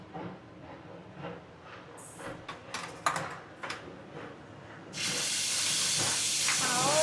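Ground masala paste hits hot ghee while chicken ghee roast is cooking, bursting into a loud, sustained sizzling hiss after a few seconds of scattered clinks and handling sounds.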